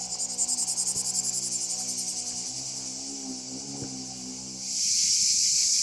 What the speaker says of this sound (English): 10 billion crickets can't all be wrong.